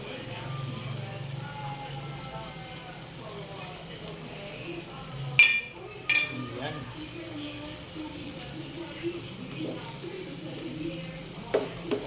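Bamboo shoots sautéing in a pan with soy sauce, a low steady sizzle under a person talking, broken by a few sharp clatters and scrapes of a utensil.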